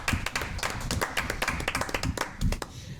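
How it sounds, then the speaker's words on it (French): Clapping from an audience at a live debate event, uneven bursts of hand claps with some louder nearby hits, continuing throughout without talk. "que vous applaudissiez toute la team qui est derrière, la technique, la com, les chroniques"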